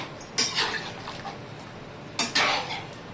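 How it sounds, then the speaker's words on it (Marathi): A metal plate set down on top of a pressure cooker of country chicken, two short clattering metallic knocks about two seconds apart, close, with no talk. "आणि आता ते हलवून त्याच्यावरती मी शिजण्यासाठी वरून ताटली ठेवते"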